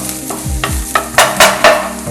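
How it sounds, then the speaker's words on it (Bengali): Garlic fries in a pan for a chicken stew while a utensil stirs it, giving several quick scraping strokes over a bright, close sizzle. "রসুনগুলো পুড়ে যাচ্ছে, এবার আমরা রসুনটাকে একটু নাড়িয়ে নেবো।"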